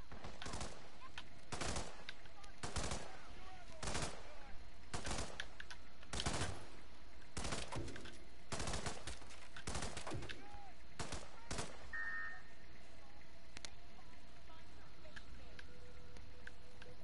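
Repeated gunshots ring out in Hitman 2 on PS4, a dozen or so sharp cracks spaced about a second apart, loud and close over a steady ambient bed, with a brief tone near the end.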